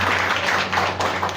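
Audience applause at a felicitation ceremony in Uttarakhand honouring a yoga teacher: a dense, steady burst of clapping from a crowd, carried over a low electrical hum.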